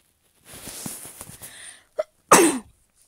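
One person coughing indoors, a short sharp cough burst followed by a louder, harsher cough near the end, up close after a stretch of quiet talk-like sound.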